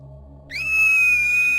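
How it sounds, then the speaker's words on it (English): Barbara Finch, a former child star in the video game What Remains of Edith Finch, lets out her signature scream: a loud, sustained, piercing high shriek that begins about half a second in and holds steady over a low background hum. "As a child star, Barbara was famous for her scream."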